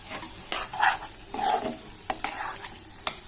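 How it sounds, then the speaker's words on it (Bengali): Wild taro leaves are stirred and pressed into a sticky mash in a pan, giving soft, close scraping and gentle sizzling strokes in uneven bursts, with a sharp clack near the end. "এখন সুন্দরভাবে নেড়ে ছেড়ে নেব। নেড়ে ছেড়ে এবারে আঠালো বানিয়ে ফেলবো।"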